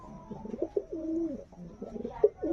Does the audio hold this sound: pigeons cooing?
yes